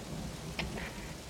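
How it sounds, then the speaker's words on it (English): Rain falls in Metal Gear Solid V: The Phantom Pain at Mother Base, a steady broadband hiss of downpour with a faint brief tick in the middle. "now you notice it's started to rain"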